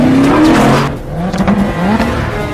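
James Bond's car in a chase from the film Spectre, its engine revving loudly and close with a rising whine, then tires squealing and the motor surging again.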